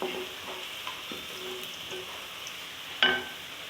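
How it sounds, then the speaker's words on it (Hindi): Onions frying in a pan for chicken keema, a steady close sizzle with soft stirring scrapes and a sharper clink near the end. "और साथ ही मैं प्याज डाल दूंगी। और पकाऊंगी ब्राउन होने तक।"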